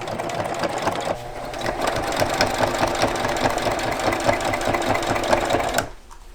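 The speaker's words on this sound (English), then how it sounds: "So in between every time that I sew, I just really make sure it still fits" A sewing machine stitches a boat cockpit cushion cover in a rapid, steady mechanical chatter, close and continuous for several seconds before it stops abruptly.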